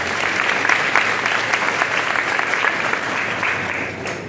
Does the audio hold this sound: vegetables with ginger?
no